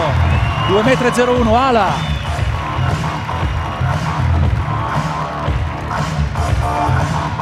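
Basketball arena crowd at an All Star Game cheering and applauding a home player's introduction: a steady, loud wash of crowd noise and clapping under a male announcer's continuous talk.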